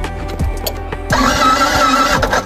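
A motorbike engine on a mountain trip cranks and catches, a rattling mechanical start that settles into a loud, close, rough idle running to the end.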